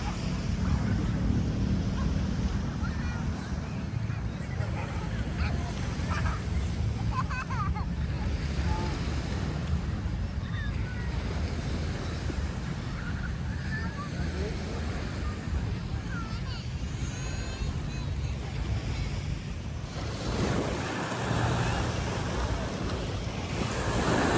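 Sea waves wash continuously at Pattaya beach, Thailand, as a broad surf roar with gusts of wind buffeting the microphone and a talking voice over it.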